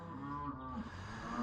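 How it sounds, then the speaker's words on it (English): A cow lows nearby on a farm, one drawn-out, harmonic moo filling the whole moment, fairly faint and heard alone without any talking. "enough with the mooing."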